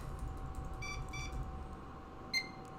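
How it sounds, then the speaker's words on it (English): A short electronic beep, most likely a power-on self-test beep as a home server boots. It is clear and brief over a steady hum of fans, with a few fainter tones just before it. "There's the beep for entering or post"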